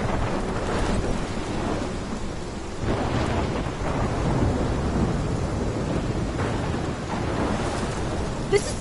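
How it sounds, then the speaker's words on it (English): A thunderstorm in the video game Life is Strange: steady heavy rain hisses throughout while low thunder rolls and rumbles in several swelling waves. No one speaks. "This is my storm."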